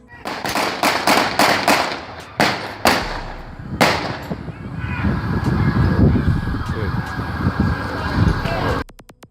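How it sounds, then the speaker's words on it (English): Volley of pistol shots fired by police officers, a rapid series of sharp loud cracks followed by a few spaced shots, then a sustained rumble of commotion and background noise until an abrupt cut. "In the video, you hear the final volley of shots"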